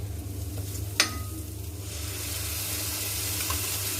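Food roasting in a pan before gravy goes in, a steady close sizzle with a sharp metallic clink early on from a stirring utensil, frying noise holding even to the end.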